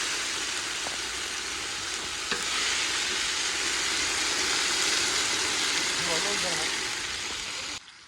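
Chicken frying in a pan, a steady broad sizzle that runs on evenly and loud throughout with only faint stirring knocks.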